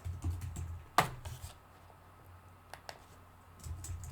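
Keystrokes on a computer keyboard while a page name is typed into a blogging platform: a sharp click, then scattered soft taps and a short cluster at the end, quiet and close.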